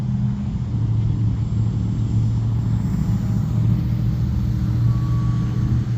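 A small Vevor T28 Trojan (XK A210) RC park-flyer plane on a 1S 800mAh LiPo battery flies overhead with a steady, loud electric motor drone and low rumbling hum that continues throughout, with no speech.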